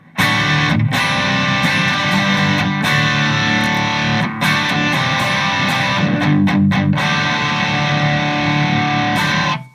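Electric guitar through a Tube Screamer boost into a distortion pedal, driven into the amp's effects loop, playing loud saturated chords and riffs with short stops between phrases.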